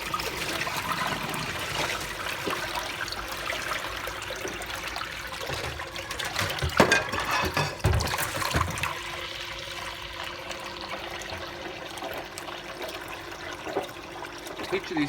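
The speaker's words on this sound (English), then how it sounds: "Pumping out a lot of water there." A Bosch washing machine pumps out dirty rinse water in a steady gushing, trickling stream that runs continuously throughout, with a brief louder surge partway in.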